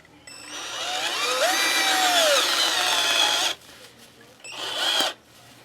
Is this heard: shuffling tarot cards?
no